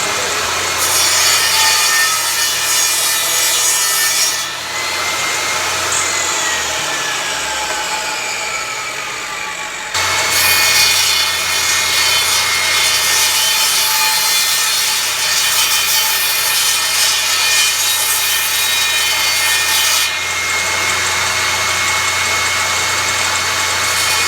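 A board is cut down with a power saw to make a handle for a homemade feed scoop, giving a loud, continuous buzzing cut that runs in long unbroken stretches, with brief dips between passes and no talking.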